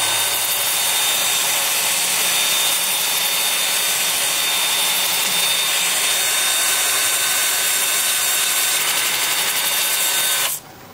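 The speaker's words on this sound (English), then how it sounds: "with the lathe spinning in reverse at about 350" A wood lathe turning a bark-edged piece runs in reverse at about 350 rpm, giving a continuous close whir with a faint high whine, then cuts off abruptly near the end.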